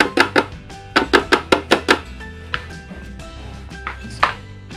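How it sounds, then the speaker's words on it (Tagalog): Carrots are scraped against a grater in a kitchen to prepare them for a blender, making a run of about nine quick rhythmic strokes, then a few scattered taps, close and clear. "Yung carrots, ginadgad ko para madali na siyang madurog ng blender."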